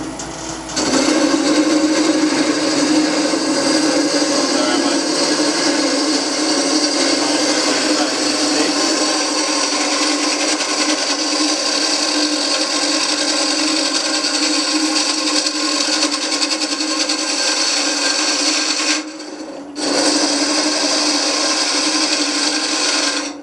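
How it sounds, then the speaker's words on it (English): A power tool grinds and rasps steadily, hollowing out the inside of a small wooden bowl, a loud continuous whirring scrape up close with a brief dip near the end. "So that's how I would go about hollowing out the inside of this little bowl."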